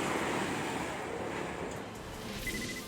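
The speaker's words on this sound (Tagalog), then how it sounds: "malalakas pang alon." Strong storm surf pounding during heavy rain in Sultan Kudarat, a steady loud broadband roar of crashing sea waves with no voices.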